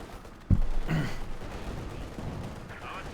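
Gunfire erupts abruptly in a Company of Heroes 2 match, an MG-34 or Maxim machine gun opening up with a sharp onset then a sustained rattling burst that continues under background battle noise.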